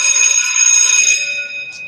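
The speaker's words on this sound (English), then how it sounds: "And there's the bell." A bell rings loud and close during a live MPC music show, a bright sustained metallic tone with clear ringing overtones that holds steady and then slowly fades, with no talking.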